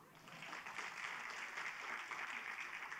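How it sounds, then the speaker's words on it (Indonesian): Audience applause for God during a church sermon, steady dense clapping filling the space at moderate level without pause. "berikan tepuk tangan buat Tuhan"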